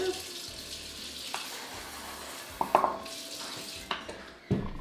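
Cold water runs from a kitchen tap while pizza toppings are prepared, a soft steady flow broken by a few sharp clinks and knocks of dishes nearby.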